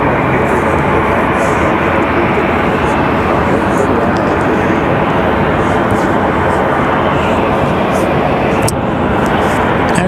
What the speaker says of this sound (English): Next arrival is going to be American Airlines 2985 coming in from Philadelphia